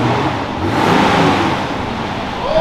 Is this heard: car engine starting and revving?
yes